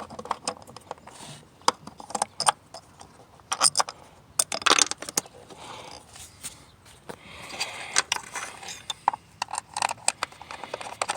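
A 10mm socket ratchet driving spark plugs into a 2016 Honda Fit, heard as irregular bursts of close, crisp clicking and metallic ratcheting that come and go across the clip with no talking.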